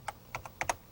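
Keys struck on a 1991 Samsung Sensor 386SX personal computer keyboard, five or six crisp separate clacks in an uneven burst, close up and alone against a quiet room.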